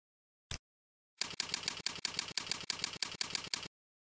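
Someone types on a computer keyboard, starting with one isolated key press and then a quick, even run of about ten clicky keystrokes, faint and close, with no talking.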